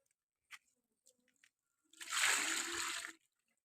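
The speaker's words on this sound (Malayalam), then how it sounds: "കൊണ്ടുവന്ന് വെള്ളം കോരുന്നു" Water drawn from a well in a vessel, a single splash and slosh lasting about a second after a few faint clicks and knocks, in an otherwise quiet setting.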